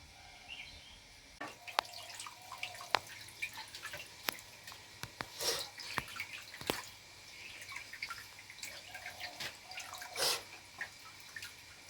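Water poured and dripping for washing hands at a home puja, soft splashes and trickles with scattered drips and clinks, fairly quiet and close.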